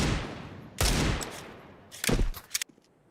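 Tec-9 pistols fire in Counter-Strike 2, with several sharp bursts of rapid shots in quick clusters, close and loud, separated by short gaps.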